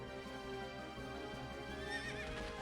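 A horse in the video game Berwick Saga gives a loud, drawn-out neigh that rises and wavers into a whinny, standing clear over a dense, layered backdrop of game audio.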